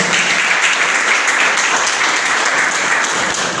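Church congregation applauding for Jesus Christ, a dense, steady wash of clapping from many hands, loud and continuous throughout.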